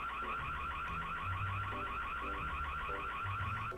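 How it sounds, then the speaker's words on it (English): A Ring home security alarm sounds, a steady, rapidly pulsing electronic tone heard at moderate distance over a background rumble. "thanks to the Ring Home security alarm, they could quickly scare him away"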